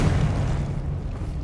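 A Confringo blasting spell explodes in Hogwarts Legacy on PS5, a single loud, close boom with a heavy low rumble that fades over about a second and a half.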